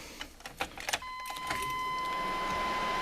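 A 1995 Suburban engine starting: a few light clicks, then a steady running rumble with a thin high whine settles in, heard close and fairly quiet with no talking.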